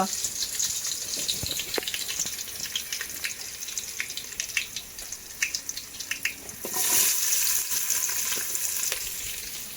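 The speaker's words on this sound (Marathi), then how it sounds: "चला चालू झाला फोडणी द्यायचं काम" Tempering spices sizzle in hot oil over an outdoor wood-fired clay stove, a steady close frying hiss with scattered crackles that surges louder partway through.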